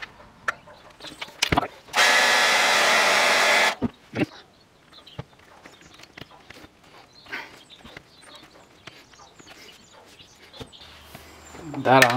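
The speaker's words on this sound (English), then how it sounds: "I'm gonna heat that up with the hairdryer over here." A hairdryer blows on part of an Airoh GP550s motorcycle helmet during cleaning, a loud steady whoosh lasting under two seconds, set among scattered clicks and handling noises.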